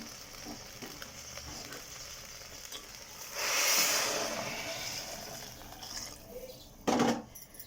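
Boiled water is poured into a hot pot of jowar (sorghum) kichdi or porridge. It makes a brief, loud hissing sizzle in the middle, then a short splash near the end, with no talking.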